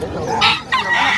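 Chickens at a poultry shop give loud, close clucks and a short crow-like call in quick bursts.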